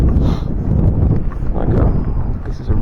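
Gusty wind by a small pond buffets the microphone with a steady low rumble throughout, while a person talks over it.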